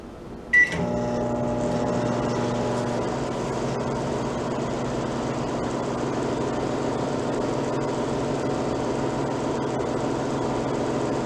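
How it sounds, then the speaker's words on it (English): A microwave oven hums steadily while melting soap, starting with a short beep or click and then running as a continuous loud drone. "So put it in the microwave."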